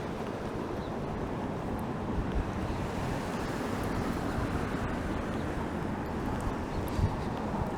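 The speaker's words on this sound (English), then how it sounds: "but it is quite windy." Wind gusting steadily across the microphone during a city walk through Toronto's Thorncliffe Park in April, a constant broadband roar with no talk.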